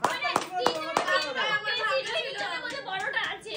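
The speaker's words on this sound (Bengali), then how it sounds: "দেখা যাক একটু হাততালি হোক" A few sharp hand claps ring out near the start amid lively children's chatter and overlapping voices, the talk continuing after the clapping.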